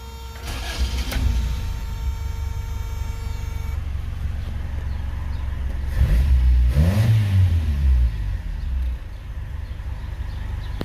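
A 1988 Toyota Corolla FX with a newly installed carburetor and automatic transmission runs at idle, then gets two quick throttle blips that rise and fall. A steady hum sits underneath, close and with no voices.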